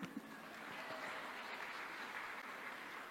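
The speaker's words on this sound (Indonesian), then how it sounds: "Tepuk tangan dong." Audience of about a hundred doctors applauding at a health talk, a brief, soft and steady wash of clapping heard from a distance, with no voices over it.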